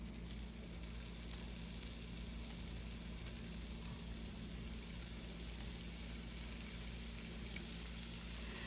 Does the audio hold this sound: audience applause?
no